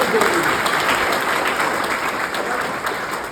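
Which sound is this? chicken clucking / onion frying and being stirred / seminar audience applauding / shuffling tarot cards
seminar audience applauding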